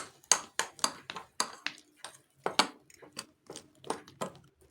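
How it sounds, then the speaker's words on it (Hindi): A spoon strikes and scrapes a bowl while dahi vada batter with baking soda and baking powder is stirred, giving a string of sharp, close clinks at an irregular rhythm. "तो इन सारी चीज़ों को हम मिक्स कर लेंगे।"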